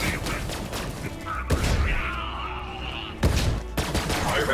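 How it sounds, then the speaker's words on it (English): Bursts of gunfire in Borderlands 3 crack and echo at close range, several shots in quick succession separated by brief pauses, with mechanical clatter between. "Gunshots are precise and impactful."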